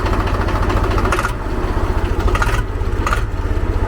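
The diesel engine of a 1999 Swaraj 735 tractor with a Kirloskar engine chugs loudly close by, its low rhythmic thumping steady with a few brief louder bursts.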